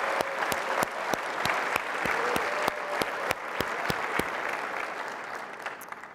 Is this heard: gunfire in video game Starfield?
no